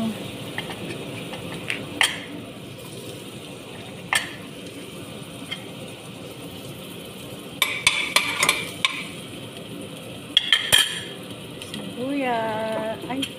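Garlic cooks in a pan with a low steady sizzle, broken by scattered clicks and scrapes of a utensil against the pan; a voice briefly speaks near the end.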